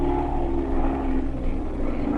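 A propeller airplane engine drones loud and steady in a 1935 radio drama, a continuous close rumble with no break.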